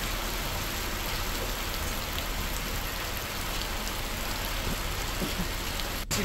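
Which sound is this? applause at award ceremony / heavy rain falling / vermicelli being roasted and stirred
heavy rain falling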